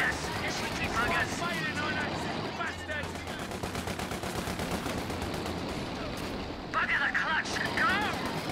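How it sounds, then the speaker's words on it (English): Rapid bursts of gunfire and machine-gun fire crackle through a World War II Company of Heroes 2 battle involving a Bren Gun Carrier, dense and sustained with a clattering vehicle rumble, while voices call out over the shooting. "Target is hastily firing at us."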